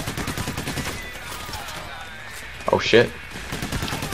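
Bursts of gunfire from a heist shootout in the video game Payday: The Heist, with a sharp cluster of shots near the end, under game music and players talking over voice chat.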